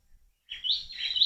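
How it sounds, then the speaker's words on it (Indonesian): Birds chirp in a quiet rural garden near a hut, bright tweeting calls starting after a brief silence and continuing steadily, fairly close and moderately loud. "Damai, suara burung."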